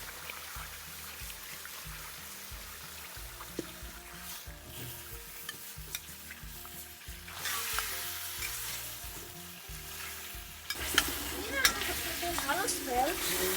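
Beef pieces fry with whole cinnamon, bay leaf, cloves, cardamom and shahi jeera for an Eid beef korma, a steady close sizzle that swells louder midway as stirring scrapes the pan.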